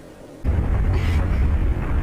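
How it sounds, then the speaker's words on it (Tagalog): A sudden deep boom erupts and rolls on as a sustained, loud rumble after a moment of quiet. "Humanda kayo sa malakas na pagsabog."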